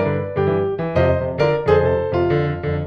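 Blues riff on piano, first phrased in G and then repeated in F, with clear chord stabs and melodic runs in a steady rhythm, played solo and close with no talking.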